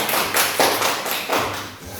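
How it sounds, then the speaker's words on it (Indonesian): Children in a grade 2 classroom clapping, a few uneven bursts of hand claps and taps close by over about two seconds. "Kasih tepuk tangan."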